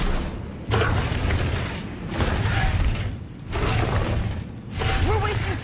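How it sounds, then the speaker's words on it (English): In the Guardians of the Galaxy game, Drax wrenches a mechanism open: heavy grinding, ratcheting and creaking metal in repeated strained pulses, dense and close, with faint game voices underneath. "Give it a yank, Drax. Step back and witness my strength"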